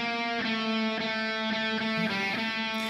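High-gain lead electric guitar from a Telecaster-type instrument with very low-gain pickups, run through an amp plugin with an overdrive pedal, playing sustained distorted notes with sharp picked attacks, loud and alone.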